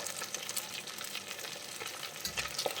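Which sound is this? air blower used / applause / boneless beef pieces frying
boneless beef pieces frying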